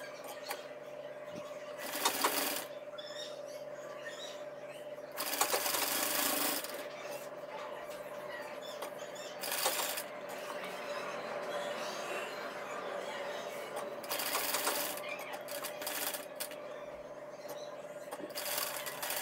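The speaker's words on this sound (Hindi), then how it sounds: "अब इस तरीके से हम इसको स्टिच कर देंगे।" Fabric with a buckram neckline being stitched, heard as repeated bursts of rubbing, rasping machine or needle work separated by quieter pauses, fairly close and alone over a steady background hum.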